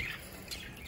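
Caged pet birds, budgies among them, give a quick squawk and a thin chirp. The calls are faint and brief, over a soft background.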